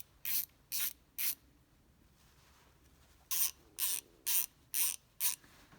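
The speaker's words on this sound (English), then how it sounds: "let's go ahead and put a socket on it" A socket going onto a hand ratchet brings crisp mechanical clicking: three quick clicks, a short pause, then a run of five more, close and fairly quiet, with no talking.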